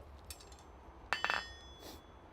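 A hammer strikes hot metal on an anvil in a smithy: one sharp ringing clang followed by a quick burst of lighter bouncing taps, with a fainter ring before and a softer blow afterward.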